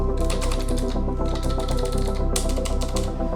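An old computer keyboard being typed on: dense, continuous rapid clacking of keys, close and fairly loud, in three runs with only brief gaps and no talking.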